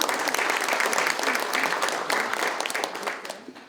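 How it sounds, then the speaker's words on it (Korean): A hall full of forum attendees applauds a university president's introduction, producing a thick wash of many hands clapping together that holds steady and then gradually fades out. "박수 부탁드리겠습니다."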